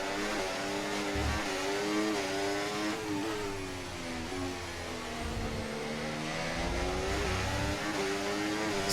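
An F1 car in F1 24 at the United States round accelerating, its high engine whine climbing through repeated upshifts over several seconds, steady and fairly near, heard alone without talk.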